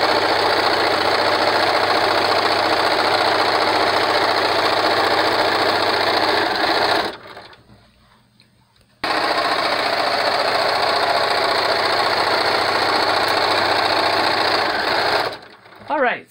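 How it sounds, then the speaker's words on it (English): A sewing machine runs fast and steady stitching medical mask covers, a loud mechanical whirring chatter close by, stopping briefly for about two seconds before resuming and stopping again near the end. "And now I'm going to sew the bottom half."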